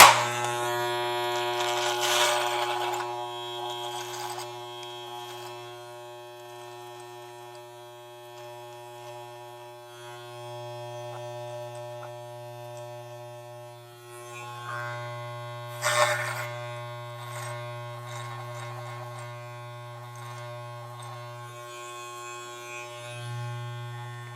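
Electric clippers shaving a head during a head shave and beard trim, a steady close motor buzz with a constant hum that rises slightly in tone when the blades press against the scalp.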